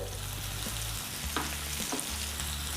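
Masala spice powders sauté in oil in a pan for samosa filling, a constant close frying sizzle with a few soft scraping stirs and a low steady hum beneath, no talk.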